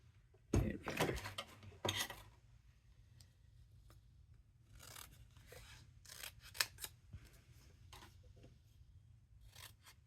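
Scissors snip paper while trimming hummingbird and flower die-cut pieces for a handmade card, a few quick close cuts early on, then scattered lighter snips and handling noises over a faint steady hum.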